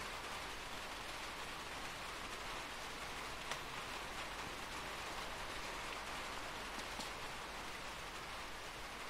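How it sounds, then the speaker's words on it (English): Steady rain falls in the video game Inside, a continuous, even hiss of drops spread through the whole stretch with no voices. "Sound of that rain."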